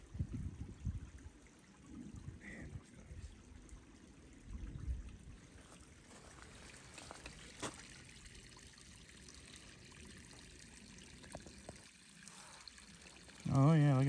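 Gold sample being panned in water at a placer dig, with steady sloshing, trickling and pouring of water throughout, louder and closer near the end; faint talk in the background.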